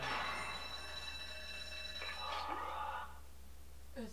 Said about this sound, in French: La porte était reliée à l'alarme.